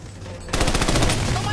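Rapid automatic gunfire in the shooter game Army of Two: The Devil's Cartel, a loud sustained burst of closely spaced shots breaking in after a quieter moment and running to the end.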